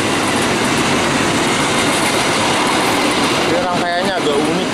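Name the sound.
Argo Cirebon passenger train passing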